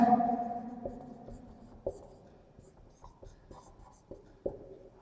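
A pen writes by hand on paper during a maths lesson, giving quiet, close scratching strokes with a few sharper taps between short pauses.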